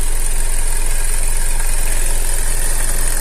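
Idling 2.4-litre engine in a Mitsubishi/Hyundai Santa Fe with a knocking timing chain, a loud, steady mechanical drone with dense rattly texture that runs alone and unbroken at close range.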